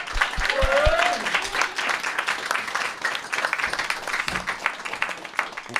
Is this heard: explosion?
no